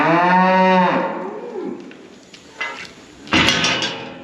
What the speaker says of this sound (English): There you are, cow. That is your pen.